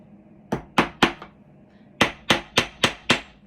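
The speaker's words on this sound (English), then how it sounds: "hammer in there pretty good. That way this nail is really sturdy" A hammer drives a nail into wood for a DIY family-name house: three sharp strikes, a short pause, then five more evenly spaced blows, each crisp and close with a quick decay, with no voices.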